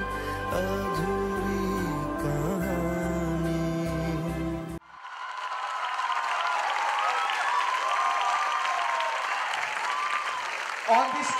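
Audience applause at a college cultural event, starting after a few seconds of loud music and holding as dense, sustained clapping from a large crowd.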